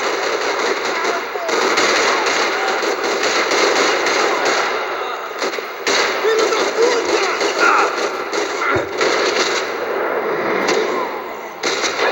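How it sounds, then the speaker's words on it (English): Rapid automatic gunfire in the video game Max Payne 3, dense rattling bursts sounding almost continuously with brief gaps, loud and close, mixed with game effects. "Tá tendo tiroteio por aqui, ó."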